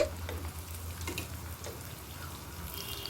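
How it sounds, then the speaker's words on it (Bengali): Vegetable chops dipped in cornflour batter and coated in biscuit crumbs fry in hot oil, a soft continuous bubbling sizzle close by with faint crackles throughout. "কর্নফ্লাওয়ারের গোলায় চুবিয়ে নিয়ে আর বিস্কুটের গুঁড়ো মাখিয়ে নিয়ে ভেজে নিচ্ছি"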